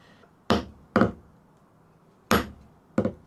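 Four sharp metallic strikes of a hammer on a punch setting hand saw teeth, in an uneven pattern, two close together then two more after a pause, close by with quiet between.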